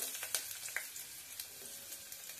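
Garlic frying in hot oil with curry leaves, cumin and two dried red chillies, a steady soft sizzle broken by small crackling pops, close and fairly quiet, no talking.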